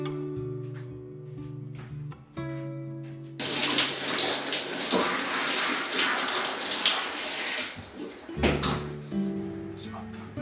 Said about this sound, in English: so I'll take a shower and wrap this up